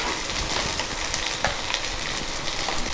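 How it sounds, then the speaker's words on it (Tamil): Tomatoes and chilies frying together in a hot pan, a steady close sizzle with small crackles and pops, no voices. "தக்காளி மிளகாய் ரெண்டே ஒண்ணா சேர்த்து ஆட் பண்ணி ஃப்ரை பண்ணிக்கிட்டீங்க"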